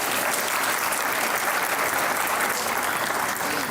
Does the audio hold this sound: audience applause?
yes